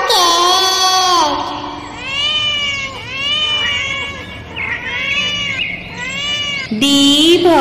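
A cat meows in a rapid run of loud, drawn-out calls rising and falling in pitch, one after another, in a children's alphabet phonics song.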